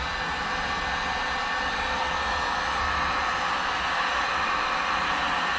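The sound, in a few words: heat gun running on high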